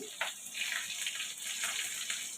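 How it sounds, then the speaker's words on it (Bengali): Chopped onions dropped into leftover hot oil in a pan sizzle with a steady, hissing crackle, fairly close and even throughout, with no talk. "দেখো পেঁয়াজও ফুটে বন্ধুরা, পেঁয়াজ দিলেও ফুটে, দূরে থাকতে হয়।"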